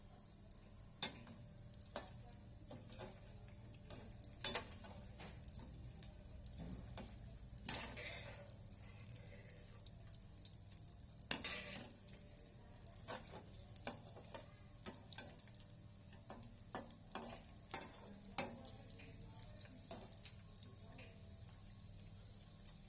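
Flax seeds being dry-roasted in a pan, quiet crackling ticks and light scraping from steady stirring with small popping clicks scattered throughout, close and faint.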